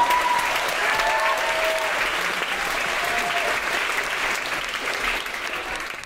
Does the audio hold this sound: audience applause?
yes